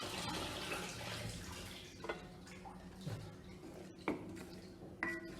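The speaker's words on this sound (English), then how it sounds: "I'm just adding a little bit of water to this" Water is poured into a pot of raw green chilli pepper thokku and stirred, a continuous close pouring and sloshing with a few sharp clinks of a utensil against the pot.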